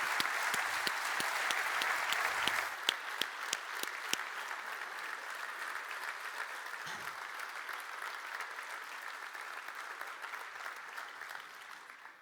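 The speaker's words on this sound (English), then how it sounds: "let's give a big hand of applause" A conference audience breaks into applause that is dense and lively at first, with a few sharp individual claps standing out, then slowly thins and fades toward the end.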